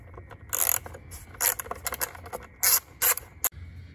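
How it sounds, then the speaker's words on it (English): A 5/16 inch socket prying off a plastic engine cover on a Chevy Silverado, making several short scraping, clattering bursts of close plastic and metal with quiet gaps between them. "take a 5/16 inch socket and pop off"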